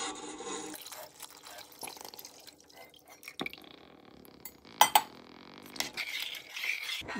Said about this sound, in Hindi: अब इसमें 7 कप ऑफ बॉयल मिल्क डाल दें।